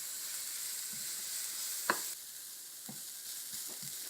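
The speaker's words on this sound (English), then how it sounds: "I'm going to put some chopped onion in this frying pan, add a little bit of oil and quickly stir it" Chopped onion sizzling in a little oil in a frying pan while being stirred, a steady soft hiss with a few faint clicks and one sharp knock partway through.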